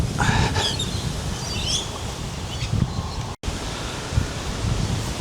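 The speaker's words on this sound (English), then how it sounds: "There is quite a wind today." Gusty wind sweeps across an open golf course, a steady close rushing roar that swells and eases over several seconds, with faint high chirps in the background and no one talking.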